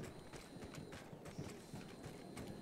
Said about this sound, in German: Und da ist ein Pferd.